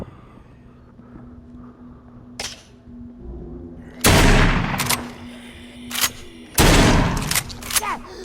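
Shotgun blasts in the zombie video game The Walking Dead: Saints & Sinners, several loud, sharp booming shots in close succession over faint background game ambience.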